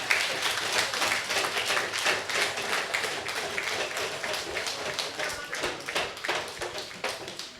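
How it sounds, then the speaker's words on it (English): Audience at a community meeting claps steadily for several seconds, a moderately loud, even patter of many hands heard from a short distance. "I want the community to give Councillor Smith a round of applause."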